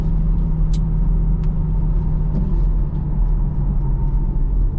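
A Chevrolet Camaro SS being driven with the window down, a steady low engine drone and road rumble, close and loud, with a few faint clicks and ticks over it.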